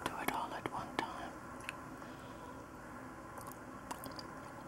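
Close, quiet mouth sounds of someone chewing a salty anchovy rolled with capers, soft wet squishes and a few crisp bites over a faint hiss, with no talking.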